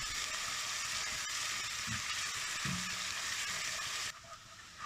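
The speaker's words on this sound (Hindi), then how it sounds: "तो अब इसको इधर ही थोड़ी देर के लिए अच्छे से भूनेंगे" Food frying in a pan over a full gas flame, giving a steady loud sizzle with a few stirring scrapes, then dropping suddenly to a quieter hiss near the end.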